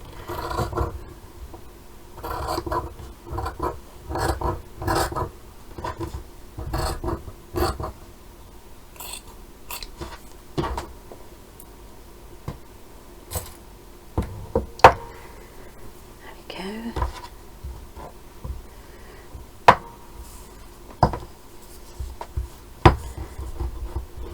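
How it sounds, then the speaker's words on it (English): Scissors trim loose fabric ends on handmade boho bunting, giving a series of soft, close snips and rustles, busy at first and then sparser, with whispered talk mixed in. "So I'm going to trim these ends off now, making sure I don't get the backing fabric."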